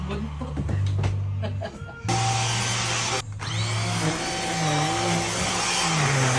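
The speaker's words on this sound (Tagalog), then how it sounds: "Buti na lang talaga meron kaming ganitong Dust Mite Vacuum." A dust mite vacuum cleaner runs on a sofa, its loud motor whine droning close up and briefly cutting out and restarting as it moves over the fabric, with speech over it.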